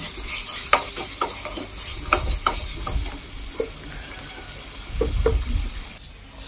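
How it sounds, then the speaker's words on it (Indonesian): Chicken stir-fries in a pan for a simple chicken soup, a steady sizzle broken by repeated scraping stirs of the spatula, close and fairly loud, alone with no voices. "Masukkan ayamnya. Tumis-tumis sebentar ya teman-teman."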